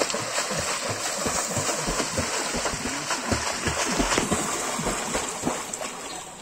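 Water splashes steadily as someone swims underwater while breathing through a length of pipe, with close, irregular bursts of churning and slapping water continuing throughout.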